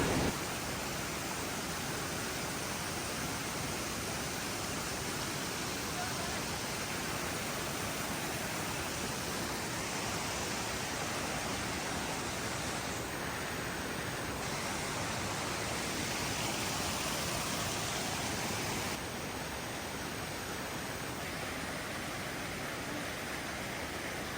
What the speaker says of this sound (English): That is one massive waterfall.